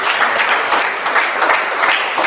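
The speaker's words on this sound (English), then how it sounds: "let's give hand clap to the nursing students." Audience clapping for nursing students at a one-day medical equipment and instruments training, a dense, steady burst of applause filling the whole stretch without any talk over it.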